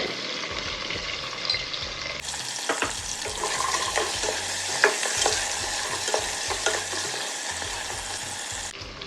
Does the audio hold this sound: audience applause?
no